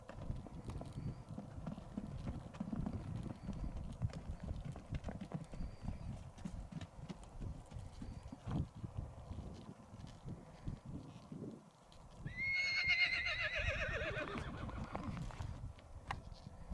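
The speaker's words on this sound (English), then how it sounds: "There were a couple of horses running around" Horses running around a fenced rural property, with steady hoofbeats throughout and a loud whinny near the end rising over the galloping, fairly close.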